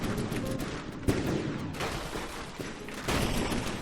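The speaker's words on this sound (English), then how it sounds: "A good barrage of fragmentation rounds." A rapid barrage of fragmentation rounds fires in the From the Depths naval combat game, with dense overlapping cracks and booms that keep coming without pause.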